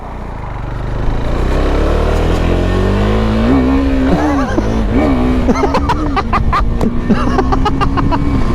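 A KTM motorcycle revs hard and accelerates, engine pitch climbing through the gears, followed by a string of sharp pops as the quick shifter cuts in on upshifts, loud and close throughout.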